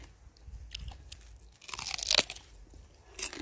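A Jindo dog crunches on spicy red radish, with several close, crisp bites and chewing bursts between quieter pauses.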